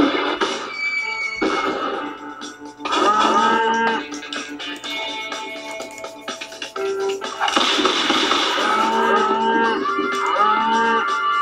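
Cows moo repeatedly in a video game, with overlapping synthetic-sounding lows and bellows alongside splashy, watery game noise, loud and continuous.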